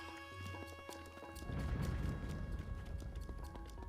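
Hooves galloping in the video game Breath of the Wild, a steady clip-clop rhythm that builds in loudness over game music tones, no talking.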